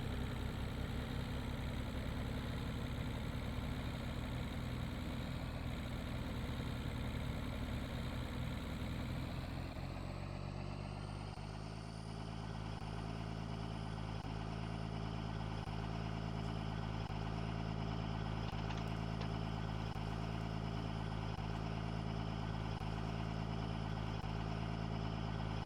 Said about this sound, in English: if that truck's going to keep making that noise, I think I'm going to have to be trading it off